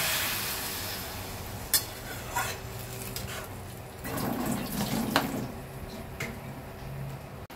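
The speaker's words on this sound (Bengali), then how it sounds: "এবারে এর মধ্যে জল দেব" Water runs and splashes into a cooking pot holding sautéed Malabar spinach for a hilsa fish-bone dish, a steady close trickle with a few sharp clinks of the pot and utensils.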